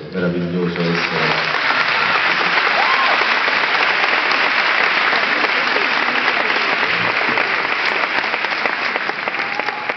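A theatre audience applauds in a steady, loud, dense wash of clapping that keeps going unbroken, with a voice briefly heard at the start.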